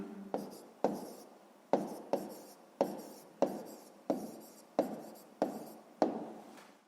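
A pen writing numbers by hand on paper gives about a dozen short, crisp scratching strokes in an even rhythm, close and fairly quiet, with no one talking.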